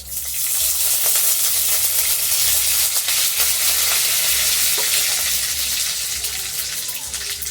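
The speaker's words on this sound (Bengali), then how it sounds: "আর এই কালো জিরেটা ফোড়নে দিয়ে দিচ্ছি।" Black cumin seeds frying in a little hot oil in a wok, a loud, steady crackling sizzle heard up close and alone for the whole stretch.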